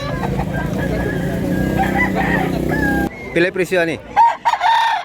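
A one-year-old Bulanting Hatch rooster in Mantalungon, Barili, Cebu crows loudly and close by, its call broken into rising and falling pulses, while people talk nearby.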